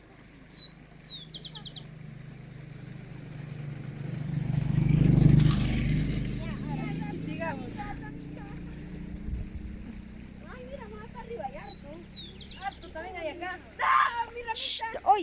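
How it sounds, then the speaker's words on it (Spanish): A motorcycle on a rural country road approaches, its engine swelling from faint to a loud close pass and then fading, with birds chirping around it and people talking nearby. "Siéntense, viene moto."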